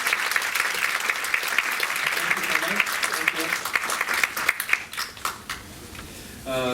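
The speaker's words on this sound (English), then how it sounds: "Could you please stand up and you can give them a round of applause" A round of applause from an audience at an origami event, steady clapping that thins out and fades into scattered claps before a voice begins speaking at the end.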